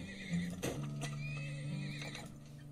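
Horses from the oil-drilling video game Turmoil neigh and whinny repeatedly over a steady in-game hum, with a clip-clop of hooves, loud and close throughout.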